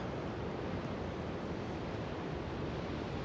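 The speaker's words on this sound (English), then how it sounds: "Here's hoping you can hear the ocean surge as it crashes upon the rocks." Ocean surge crashing against rocks along a coastal road, heard as a steady, dense roar of broadband surf and wind with no distinct individual breaks, continuous for the whole stretch and without voices.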